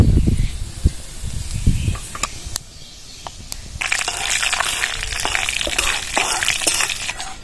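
Dried red chillies and panch phoron crackle and hiss in hot oil, with sharp pops and spatters early on that build into a loud, dense sizzle partway through.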